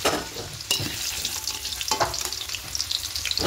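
Chicken pieces fry in oil in a kadai, giving a close, crackling sizzle broken by scattered pops and stirring scrapes throughout.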